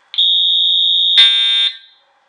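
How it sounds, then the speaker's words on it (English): Wall-mounted fire alarm horns set off during a test button demo, emitting a single loud, steady high-pitched electronic tone lasting about a second and a half, with a brief harsher burst midway before it cuts off and rings down. "Oops, forgot to turn on the horns."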